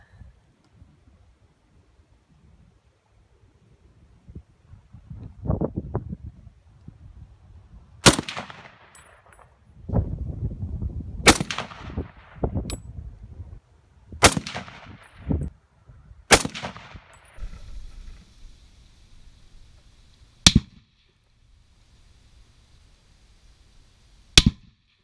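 An M1 Garand rifle fires armor-piercing rounds at a steel target outdoors, with several sharp, loud cracks spaced a few seconds apart, each followed by a ringing clang and a decaying tail, plus quieter handling noises between shots.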